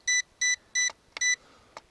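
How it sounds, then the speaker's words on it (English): Transmitter of a TYH T1 quadcopter, a Syma X8 clone with a tiltable camera, beeping as the camera tilt is adjusted: five short, evenly spaced bright electronic beeps, with faint clicks in between and no talk. "you get the really annoying beep that you're actually doing something on the transmitter"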